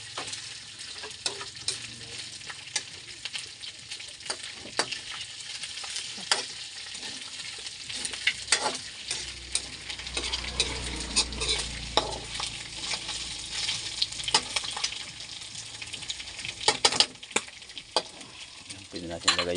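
Leftover pork chop fat sizzling in a pan with chili added, a constant crackling fry with scattered pops and stirring clinks, fairly close and alone.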